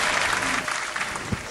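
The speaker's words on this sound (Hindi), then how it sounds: "आप लोगों की जोरदार एक्साइटमेंट और तालियों के बीच में इन्वाइट करना चाह रहा हूँ, परम आदरणीय गुरुदेव बीसी छाबड़ा सर।" Loud, dense applause at a third-anniversary celebration event fills the whole moment, a crowd clapping steadily with a faint murmur of voices underneath.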